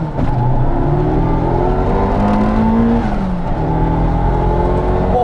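A turbocharged Honda Civic EF, a lightweight car on about 6 psi of boost, accelerating through the gears with a loud rising engine drone that drops at a shift, heard close from inside.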